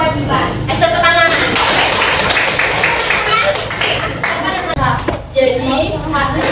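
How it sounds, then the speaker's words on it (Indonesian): Classroom of students clapping in unison, rhythmic bursts of sharp hand claps that come and go, with children's voices mixed in between the rounds. "Tepuk tangan."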